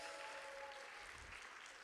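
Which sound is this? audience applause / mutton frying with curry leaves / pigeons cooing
audience applause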